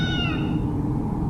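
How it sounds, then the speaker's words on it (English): A single cat meow from the video game S.T.A.L.K.E.R. Shadow of Chernobyl rises clearly at the start and fades within half a second, leaving a steady low ambient drone. "everyone who's played the game knows that cat meow that we'll hear every once in a while."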